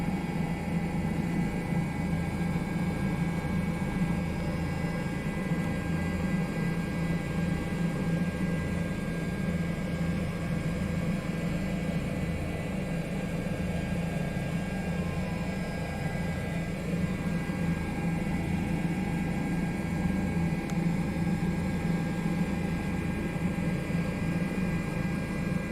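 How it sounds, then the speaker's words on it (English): A Bell 407 helicopter in a flight simulator produces a steady, even engine and rotor drone that holds constant throughout, with no talk. "Gotta love a chopper, flying it sideways."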